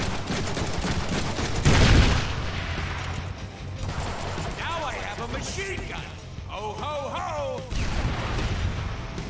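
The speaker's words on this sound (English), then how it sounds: "Now I have a machine gun." Machine gun fire in a video game, with a heavy loud burst of shots around two seconds, then lighter rattling continuing under a voice and game dialogue that talks over much of the clip.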